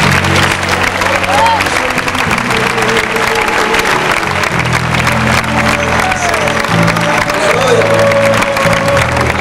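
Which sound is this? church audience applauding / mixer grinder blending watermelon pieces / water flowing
church audience applauding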